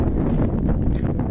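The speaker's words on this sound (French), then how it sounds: "il y a du vent, vous allez me dire on n'entend pas, il y a du vent" Wind outdoors in the countryside, a steady low rumble buffeting the microphone for just over a second with no other sounds.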